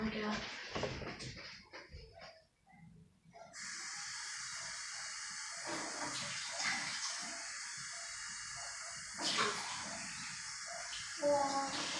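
A slime-making utensil is washed under running water from a tap, a steady hissing spray that runs for several seconds with some brief shifts, following a moment of talk and handling noise.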